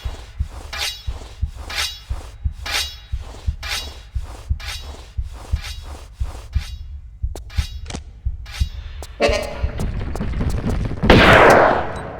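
Repeated pistol shots fired at a boulder in a Tomb Raider custom level, a steady rhythm of sharp, close cracks roughly every half second, ending in a louder crumbling burst as the rock breaks.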